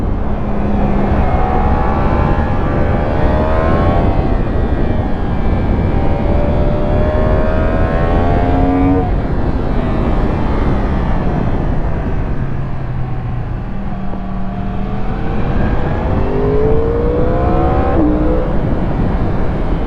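A car engine drones steadily throughout, its pitch rising and falling as it shifts and pulls, loud and close, with no talking.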